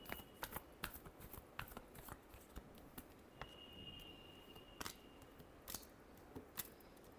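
Tarot cards are shuffled quietly, with a run of soft irregular riffling taps and flicks, faint and close, with no voices.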